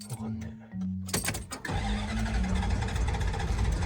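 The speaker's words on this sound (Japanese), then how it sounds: "運転中に急にエンジンが止まった。" A stalled car engine in Baja California cranks and catches at about one second, then runs on in a steady idle hum, close and loud, with people talking over it.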